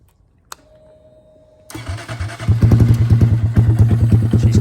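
A 2022 Honda Grom motorcycle engine cranks and catches after a brief click, then settles into a loud, steady, throbbing warm-up idle close by.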